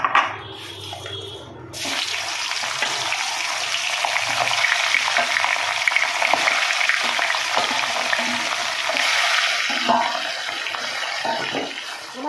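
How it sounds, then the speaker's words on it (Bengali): Hilsa fish pieces fry in hot oil in a wok, a loud continuous sizzle and crackle that surges after a brief quieter start and holds steady to the end. "বাকি মাছগুলো এইভাবে আমি ভেজে নেব।"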